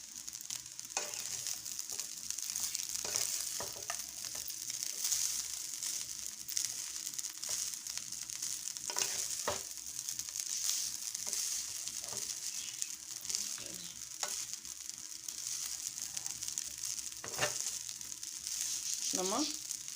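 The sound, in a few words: bread pieces frying in a pan for vegetable fried rice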